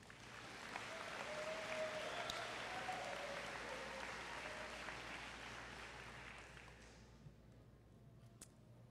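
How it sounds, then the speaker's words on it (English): Distant crowd applause at a high school graduation ceremony, swelling and holding steady, then gradually fading, heard faint and diffuse across a large venue. "Give a round of applause for these guys."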